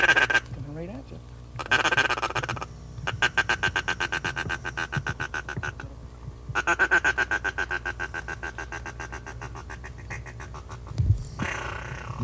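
Ducks called in by a hunter's duck call on a Michigan hunt answer with bursts of rapid, repeated quacking, several loud trains of calls in close succession with brief gaps, near and clear, with short grunting sounds mixed in.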